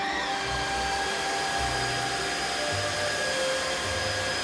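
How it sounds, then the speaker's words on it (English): A Tineco Pure One S15 Pet floor washer runs steadily on its own, a loud, continuous motor whine and suction roar with low brush-roll rumble, no voices over it. "This is a floor washer. It wets the floor, it buffs the floor, it cleans the floor, and then dries it, right?"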